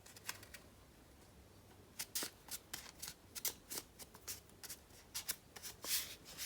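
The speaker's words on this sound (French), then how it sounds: "on va mettre le pli sur le premier trait de pliage" Paper folded and creased along a scored line while making a small place card box, heard as soft, close crinkles and quick pressing rustles in short bursts, quiet and alone.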